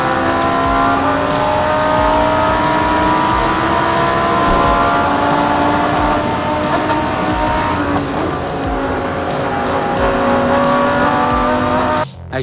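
A Lamborghini GT3 race car at Brands Hatch roars continuously near full throttle, its engine note loud and sustained with shifting harmonics, cutting off abruptly at the very end.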